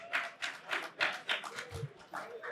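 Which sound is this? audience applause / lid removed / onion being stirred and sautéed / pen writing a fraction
audience applause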